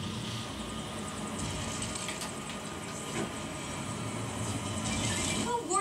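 A helicopter in the Lego City Undercover video game rumbles along as a steady mechanical whir that swells slightly toward the end, with faint game sounds layered over it.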